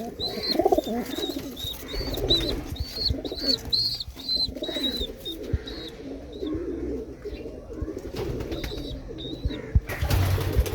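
Pigeons, including Teddy breed birds, coo repeatedly in a loft, with rhythmic low cooing phrases and some faint chirps close by, plus occasional wing flutters and rustling.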